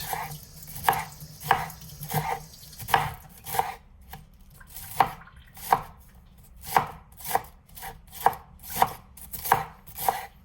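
A chef knife chops through tough vegetables in a steady rhythm of sharp, close thuds on a board, roughly one or two strikes per second, with no talking.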